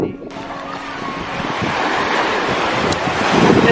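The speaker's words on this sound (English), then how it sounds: "This is such a beautiful beach." Surf and steady wind at Knip Beach in Curaçao, a broad continuous roar of breaking waves with gusting wind buffeting the microphone, growing slightly louder toward the end.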